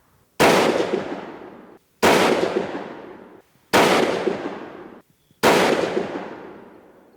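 Four sharp rifle shots from a 6mm Creedmoor Howa 1500 firing 108-grain rounds at a target, evenly spaced about every one and a half seconds, each a loud crack with a long decaying echo trailing off before the next.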